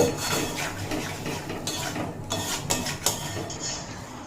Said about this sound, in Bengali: আর যে আলু আর পেঁপে ভেজে রেখেছিলাম সেগুলো এড করে দেব দিয়ে মশলার সঙ্গে খুব ভালোভাবে কষিয়ে নেব